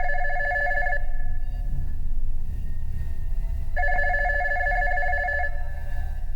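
A telephone on a stage rings in two loud, sustained electronic bursts separated by a pause of near silence, with no voices heard.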